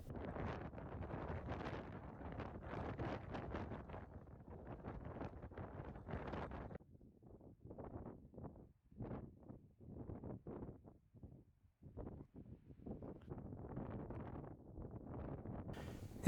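Cold gusts of wind buffet the microphone on an open hiking trail in Dolly Sods Wilderness, loud roaring bursts for the first several seconds, then broken, fluttering gusts before a steadier blast returns at the end.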